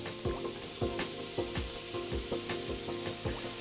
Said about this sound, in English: start cooking this bacon now on about medium-high heat, so that way it can get crisp